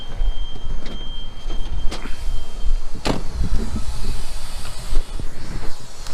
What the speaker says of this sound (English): you hear all that air dumping out?